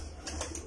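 Kamgar pigeon pair cooing on a rooftop, a short soft throaty coo over low background hum.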